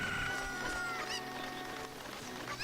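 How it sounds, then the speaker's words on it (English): Chicken clucks from the video game Ocarina of Time, a few close, fairly loud squawking calls over busy game music and effects, with no talking. "But now you want to take this chicken"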